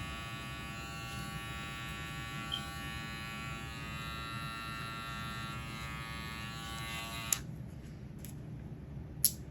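Electric hair clippers with the guard opened all the way run with a steady, close buzz while fading hair in a high-taper cut. The hum holds evenly, then cuts off near the end, leaving a couple of faint clicks.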